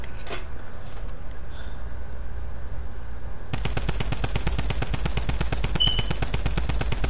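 Rapid automatic gunfire from a gun in a video game starts partway through, a fast steady burst of loud shots following a quieter stretch of game ambience.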